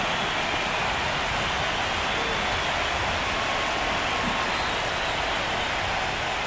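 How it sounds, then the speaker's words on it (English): Steady, dense rain falls over an open ballpark during a college baseball playoff game, a continuous hiss with no breaks and no voices. "It feels like we might be headed towards a rain delay if the weather doesn't ease up"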